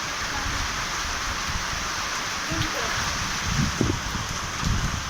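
Steady rain pours down in a dense, even hiss with gusts of wind, and low muffled thumps and faint murmurs rise beneath it now and then.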